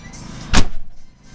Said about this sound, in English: Let me get up and shut the door.